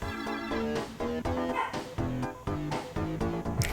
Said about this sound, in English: You can probably hear the dogs barking in the background as well now.